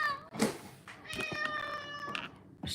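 Female pet cat meowing close up, a short meow followed by a longer drawn-out vocal call.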